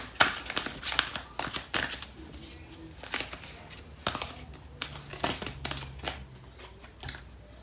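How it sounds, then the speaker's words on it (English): Fairy Tarot cards being shuffled and a single card drawn from the deck, a run of close, crisp papery flicks and slides in irregular bursts, with no talking. "I'm going to pull out a card from the Fairy Tarot deck, just the final card."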